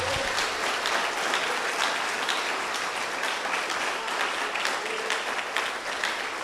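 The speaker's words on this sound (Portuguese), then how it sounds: "Aplauda ao Senhor Jesus bem forte." A church congregation claps loudly and steadily at a worship service, a dense, sustained applause filling the room with no voices standing out.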